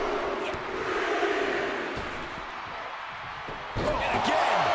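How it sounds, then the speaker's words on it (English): Arena crowd in the WWE 2K25 wrestling game, a broad roaring noise of cheering spectators that swells and ebbs, with a commentator talking over it. "What a raucous crowd here tonight."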